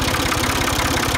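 Diesel engine of a Ford 2000 tractor running during a diesel purge, a loud, close, steady low chugging throb with rapid regular firing pulses.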